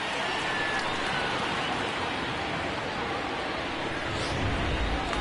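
Rain falling steadily during a baseball game, an even, close hiss of drops that holds at constant loudness for the whole stretch with no break.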